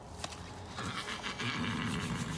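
A horse at a horse pen gives a short neigh against a steady outdoor background, fairly close and moderately loud.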